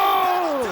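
A fight crowd roars and cheers loudly in a brief, sustained burst, many voices blending into one swelling shout.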